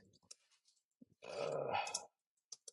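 A dog gives one short, close growling vocalization lasting under a second, with faint clicks and quiet gaps before and after; no speech.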